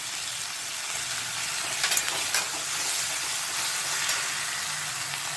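Mustard and tomato paste masala frying for a rohu fish curry, a steady close hiss of sizzling oil with a couple of brief scraping stirs partway through.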